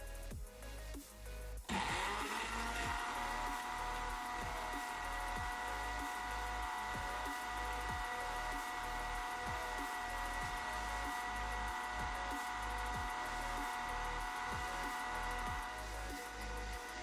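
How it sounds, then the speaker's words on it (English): A kitchen blender runs steadily, blending watermelon and cucumber juice with lemon juice, chaat masala and water; a close, loud motor whine starts after a short quiet lead-in and holds with rhythmic churning thumps. "Finally, add about half a cup of water and blend well."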